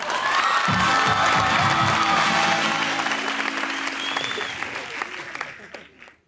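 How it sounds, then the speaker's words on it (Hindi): A studio audience on a Pakistani talk show breaks into loud applause with cheering and shouts, building fast, holding strong, then fading away near the end. "अपने लिए तालियां बजाओ"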